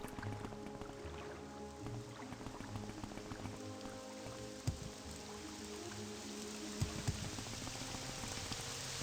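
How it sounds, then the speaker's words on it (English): Rain in Morrowind patters steadily as a faint, continuous hiss under a low ambient hum, with a couple of brief knocks and no talk. "And it's raining."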